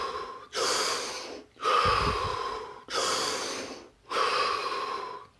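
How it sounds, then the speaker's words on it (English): Slow, deep breaths are drawn in and let out in long, airy, hissing bursts, closely miked. The bursts come in an even rhythm with short pauses of quiet between them. "Then we took 3 deep breaths."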